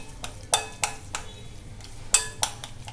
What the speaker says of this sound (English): We have to whisk them vigorously like this.